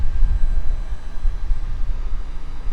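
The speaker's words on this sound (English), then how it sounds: "It's like a private jet from some sort of Air Force." A private jet departing from Tampa's airport gives a steady, loud, low engine rumble and roar that stays constant throughout, with no voices.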